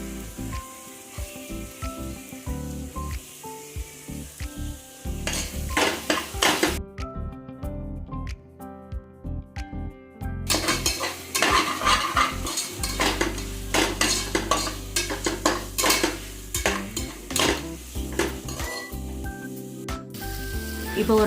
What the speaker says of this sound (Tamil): ஒரு பெரிய வெங்காயத்தை கட் பண்ணி வச்சுருக்கேன்,